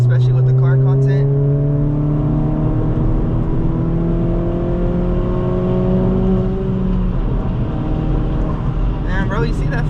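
Another car speeds past to cut in front of a tuned 2022 Honda Civic Si on the road, engine tones rising steadily as it accelerates, heard under the close steady drone of the cabin and engine, with talking in the car.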